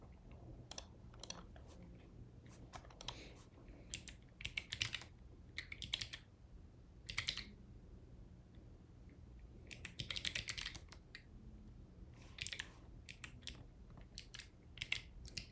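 Someone types on a computer keyboard in irregular clusters of clicks, some quick runs and some single taps, fairly close but quiet over a low background hum, with no talking.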